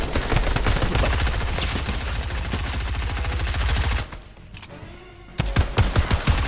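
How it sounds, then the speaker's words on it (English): Rapid, loud automatic gunfire in the Fortnite video game, dense bursts lasting about four seconds, a brief lull, then more shots resuming. "Oh, you're getting shot. You're getting shot."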